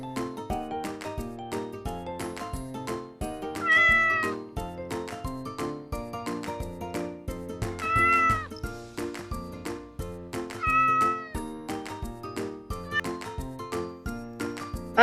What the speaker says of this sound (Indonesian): Kucing bahasa Inggrisnya cat.